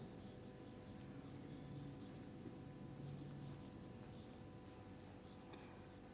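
Chalk or a marker scratches and taps on a board through a physics lecture on dimensional analysis, faint but continuous strokes sounding in short bursts in a quiet room.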